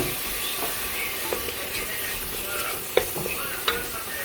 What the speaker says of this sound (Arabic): دايره هنايا واحد المقله ديال الشكشوكه بهادو بالفلفله الحمراء، الفلفله الخضراء، الدنجال